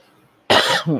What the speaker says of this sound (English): Sometimes I need to cough.